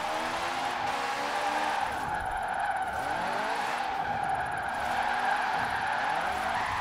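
Citroën 2CV drifting in a racing video game, with a steady engine drone and a sustained tyre skid running through the whole stretch, loud and close with no break.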